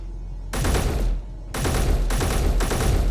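A turret firing in the Space Engineers video game, loud rapid bursts of automatic fire in two long stretches separated by a short pause, dense and continuous within each burst.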